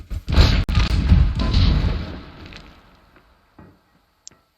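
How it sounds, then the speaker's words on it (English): A camper blows up in the video game Scrap Mechanic: a heavy booming blast rumbles and crackles for about two seconds, then fades, followed by a couple of faint, brief knocks. "That's the sound of blowing up."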